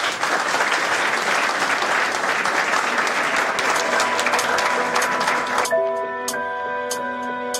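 A lecture audience at ISP Mbanza Ngungu in the DR Congo breaks into dense, steady applause that fills most of the clip, then cuts off abruptly near the end, leaving a sustained tonal hum.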